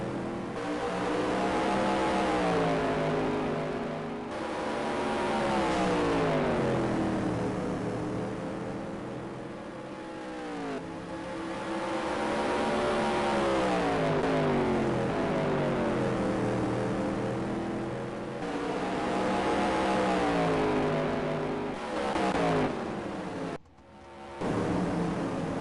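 Stock race cars lap Black Creek Raceway in a SUPRS Speedweeks feature, engines loud and near, rising and falling in repeated sweeps as the pack rolls through the turns and past, with no talk over the roar.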